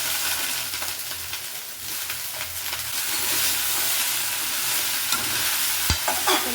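Potatoes fry in hot oil for a vegetable sambar, giving a loud, continuous hissing sizzle close by, with an occasional stir or knock against the pan and no speech.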